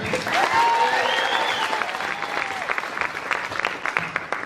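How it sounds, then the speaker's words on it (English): An audience at a school pageant breaks into applause, a full round of clapping that starts strong and gradually thins out while some high-pitched cheering or whooping rises over it. "Can we have a round of applause for her?"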